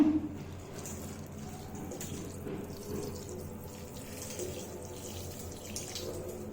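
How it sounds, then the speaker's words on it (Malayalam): Tap water runs into a bathroom fitting to rinse it after scrubbing with lemon, a steady close gushing stream that continues evenly without pause, with no talk over it. "ഇനി വെള്ളം ഒന്ന് ഒഴിക്കട്ടെ"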